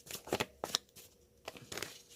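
Tarot cards being shuffled by hand in a few quick riffling bursts, close and fairly quiet, with brief pauses between the rustles.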